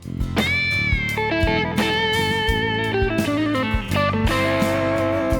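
Electric guitar melody with sustained notes that waver in pitch from vibrato, played alone with a slightly overdriven tone.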